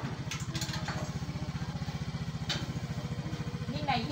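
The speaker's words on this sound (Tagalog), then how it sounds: "Rinig ko na yung motor." Motorcycle engine runs nearby with a steady, rapid low putter under the scene, holding a fairly even level; faint background voices and small clatters occur alongside it.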